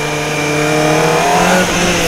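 A 250cc supersport motorcycle with low clip-on handlebars rides at steady speed, its engine droning loudly and close with a slight rise in pitch, and wind noise alongside.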